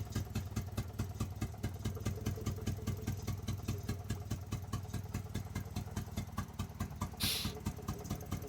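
A car engine with faulty wiring idles roughly, pulsing in a steady uneven chug close by, with a brief hiss near the end and no speech.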